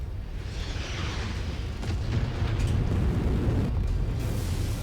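Explosions in the video game MechWarrior 5: Call to Arms, heard as a rumbling, low booming blast that builds over a few seconds with debris-like crackle, at moderate level with no talking.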